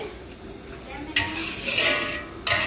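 A spoon scrapes and clinks against a pot while Karaikudi chicken curry is stirred, a few brisk metallic strokes up close with a soft cooking hiss underneath.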